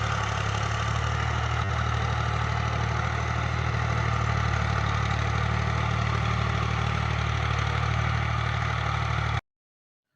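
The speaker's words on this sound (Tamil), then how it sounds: "அடுத்து வர்றது டிராக்டர்." An agricultural tractor engine idles with a steady, deep droning hum and constant vibration for about nine seconds, then cuts off abruptly into silence.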